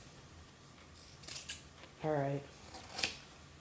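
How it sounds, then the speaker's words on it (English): Sharp scissor snips cutting through thick fur fabric for a vest: a quick pair of close snips, a brief spoken word, then another crisp snip, all fairly quiet. "Let me grab my scissors to clip the beginning here at the bottom"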